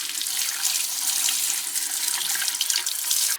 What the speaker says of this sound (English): And then just rinse the brush off.